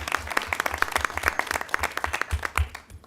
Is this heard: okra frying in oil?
no